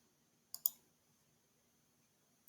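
Computer mouse clicked twice in quick succession, sharp close clicks in an otherwise quiet room with a faint steady hum, and another tiny click at the very end.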